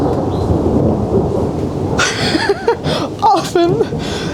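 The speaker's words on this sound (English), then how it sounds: "it looks like the storm is subsiding" Rain and a low rolling thunder rumble fill the opening of a wildlife safari scene, heavy and close, before people start talking and laughing over the fading storm.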